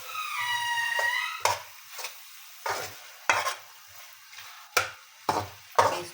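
Vegetables with fenugreek are fried in a pan, and about eight sharp, evenly spaced spatula scrapes stand out over a low sizzle. A brief whistling tone sounds at the start.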